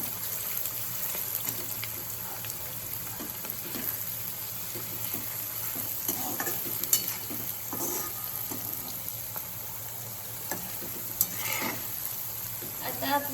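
Three to four finely sliced medium onions fry in a pan for Maharashtrian chicken biryani, a steady soft sizzle with scattered stirring scrapes and clinks, fairly quiet and close, no talking.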